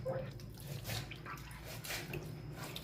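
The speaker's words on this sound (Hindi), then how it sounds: "ये थोड़ा ठंडा पानी है, ठंडा पानी में डाला है, और इसको ऐसा करके धोना है पूरा।" Goat tripe is washed by hand in cold water, giving faint continuous sloshing and splashing with soft drips, fairly quiet and steady throughout.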